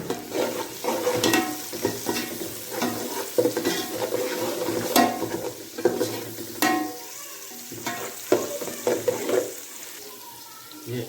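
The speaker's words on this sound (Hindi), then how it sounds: "ये 2 टमाटर काटे थे वो इसमें डाल रहे हैं" Chopped tomatoes sizzle in a hot pot while a spoon scrapes and stirs, with irregular metallic clinks over a steady frying hiss, close and fairly busy.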